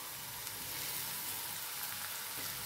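Tomato pieces going into a hot frying pan for a rural pea dish, giving a steady, close sizzle and frying hiss that fills the whole moment without any talk.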